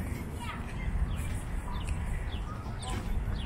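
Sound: birds chirping in a park

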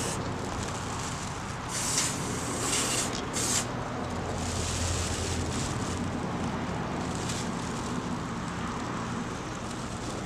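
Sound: aerosol spray paint being sprayed

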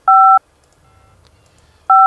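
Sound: telephone dialing tones in video game

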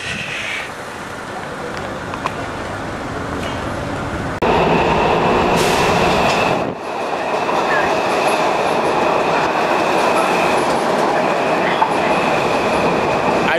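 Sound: Washington Metro subway train

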